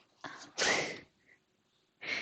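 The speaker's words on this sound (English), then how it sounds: "I'm gonna sneeze." A person sneezes up close: a sharp intake of breath, then a loud explosive burst, followed after a pause by a softer exhale.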